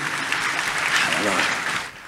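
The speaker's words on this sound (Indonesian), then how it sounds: "Tepuk tangan yang paling meriah dulu buat Tuhan." A church congregation applauding enthusiastically during a service on living in truth and holy communion, a brief burst of dense clapping with voices mixed in, fading slightly at the end.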